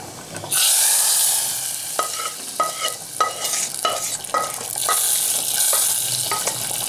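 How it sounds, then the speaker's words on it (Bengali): A hot spiced tempering is poured into moong dal cooked with drumsticks, setting off a loud sudden sizzle that keeps crackling steadily, with a spoon clinking and stirring through it at close range. "আমি এবার গ্যাসটা অফ করে দিয়ে ডালের মধ্যে এটা ঢেলে দেবো"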